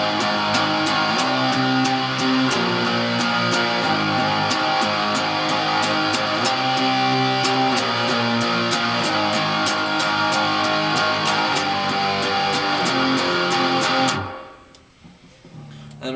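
Distorted electric guitar plays a riff, loud and steady with a regular rhythmic pulse for about fourteen seconds before stopping abruptly into near silence.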